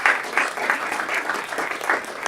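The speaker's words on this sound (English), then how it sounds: "I'd like you to give them one more round of applause" An audience at a quarterly board meeting claps for board members, a brief burst of dense, even applause from many hands in a room.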